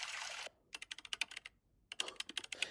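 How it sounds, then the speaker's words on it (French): AI-generated typing on a computer keyboard: rapid, crisp key clicks in two quick bursts separated by a short pause, close and clear. "Ou alors quelqu'un qui tape au clavier."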